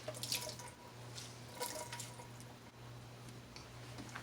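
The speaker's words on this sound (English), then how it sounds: "Rinse my hands off." Hands are rinsed under a running kitchen tap, a faint, steady trickle of water with a few splashes and drips, quiet and close, over a low background hum.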